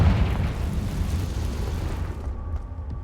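A Confringo spell explosion in Hogwarts Legacy gives a loud, booming blast of deep rumble and crackling debris that slowly thins out into a fading, hissing tail.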